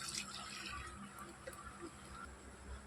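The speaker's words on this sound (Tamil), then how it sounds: "தேவையான அளவு தண்ணி ஊற்றிக்கலாங்க." Water is poured into a cooking pot while preparing cow colostrum milk, a soft, continuous trickling splash heard faintly and close by.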